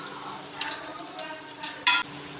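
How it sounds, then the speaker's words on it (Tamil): Cardamom pods, star anise and cloves crackle and sizzle in hot oil in a pan for chicken kurma, with a faint steady fry, a few sharp pops and a spoon stirring against the pan. "லவங்கம் வெடிக்கும்"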